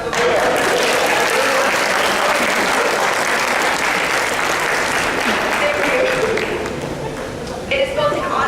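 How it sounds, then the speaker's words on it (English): An audience at a ceremony breaks into loud, sustained applause, a thick wash of clapping that holds steady before easing slightly near the end, with some voices mixed in. "Can I please have a round of applause?"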